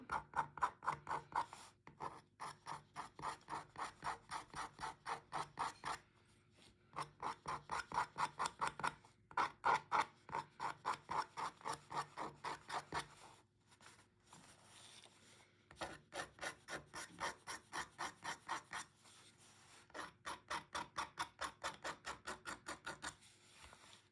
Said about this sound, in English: I'm literally using my Stanley knife just to scrape away